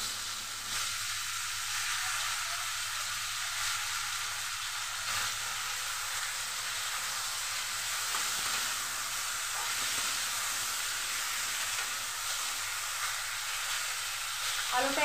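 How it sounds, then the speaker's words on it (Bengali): Cut potatoes frying in a pan for a thin fish curry with drumsticks, a steady close sizzle and hiss lasting throughout with no break. "আলুটা একটু লাল লাল করে ভেজে নেব।"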